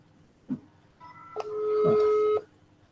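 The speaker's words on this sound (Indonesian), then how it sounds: "Coba Abati telepon lagi dia." Telephone busy signal from a call being placed, a steady two-tone beep holding for about a second alongside a brief keypress-like tone, clear and close with a faint knock before it.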